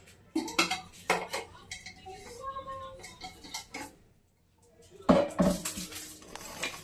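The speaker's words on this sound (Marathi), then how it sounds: "डाळीचा डब्बा खाली ठेवायचा आहे कुकरमध्ये आणि त्याच्यानंतर मैद्याचा डब्बा ठेवून द्यायचा आहे" Several metallic clanks and scrapes as steel containers of lentils and flour are set down and shifted inside a pressure cooker, close by, in irregular bursts with a quiet pause midway.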